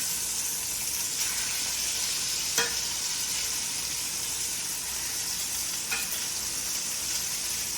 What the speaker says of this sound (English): Now I'm going to finish searing off the rest of these ribs